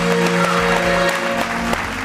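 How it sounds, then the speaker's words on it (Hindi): A studio audience on a Hum TV talk show applauds briefly, quick clapping over a sustained musical tone, loud and close, lasting a couple of seconds. "एक दफा बहुत सारी तालियां।"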